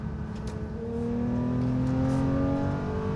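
Porsche 911 with a 4-litre engine revving, a loud rising growl that climbs steadily in pitch and holds strong, close and alone without talk.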